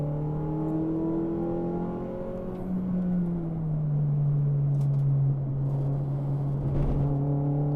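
A MINI Challenge race car accelerates on a track, its engine note climbing through the gears with a pitch drop at a shift, then pulling hard again, loud and sustained.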